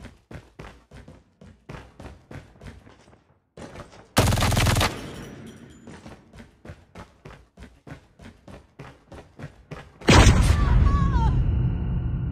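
Bursts of automatic gunfire in a Call of Duty Mobile Search and Destroy match on the Coastal map, rapid rhythmic shots broken by two loud explosive blasts, close and dominant.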